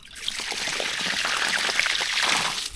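Water runs steadily from a tap fed by IBC storage tanks through a pipe down a hill, giving a continuous close splashing trickle with no talk.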